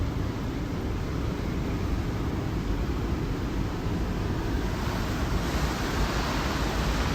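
Floodwater from a swollen brook rushes through a washed-out front yard in Oley Township, Pennsylvania, a loud, continuous broadband roar with no breaks.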